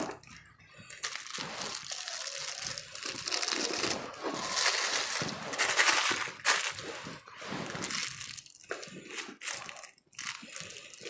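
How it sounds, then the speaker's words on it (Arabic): The back of a knife scores frozen basterma into small squares through a plastic bag, producing continuous close crunching, crackling and crinkling with brief pauses, loud and without talk. "بظهر السكينة، وهتبتدي تقسميها مربعات من غير ما تقطعي الكيس، مربعات صغيرة"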